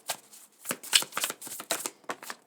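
A thick tarot card deck being shuffled by hand, a run of crisp riffling bursts and flutters in an uneven rhythm, close and fairly quiet with no voices.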